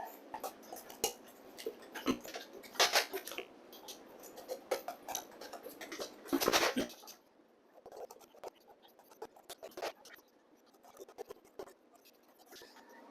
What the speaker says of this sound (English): Stuff is pretty easy to cut with a utility knife